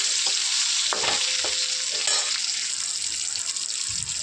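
Tomato and slit green chili sizzle in a pan while being stirred with a spatula, a constant bright frying hiss broken by occasional scraping knocks and clinks.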